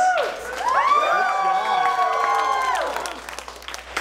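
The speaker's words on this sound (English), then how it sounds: "let's give these guys a round of applause" Audience applause mixed with loud cheering and whooping voices after a game, a burst of shouts and clapping that swells quickly, holds for a couple of seconds, then thins out.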